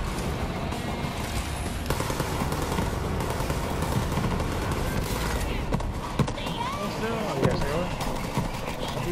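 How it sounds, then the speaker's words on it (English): Video game gunfire from enemies shooting from behind forms dense, continuous bursts of shots and impacts, with players talking excitedly over the constant shooting. "we got people shooting us behind us"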